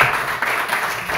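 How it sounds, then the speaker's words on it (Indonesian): Brief, steady patter of classroom applause as students clap together, fairly even throughout with no voices rising above it. "Tepuk tangan dulu."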